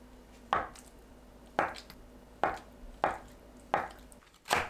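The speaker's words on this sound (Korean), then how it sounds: "두부를 한 입 크기로 썰어주세요." A knife chops tofu into bite-size pieces on a board, giving six sharp, evenly spaced knocks about every 0.6 seconds, close and distinct, with quiet gaps and no talk.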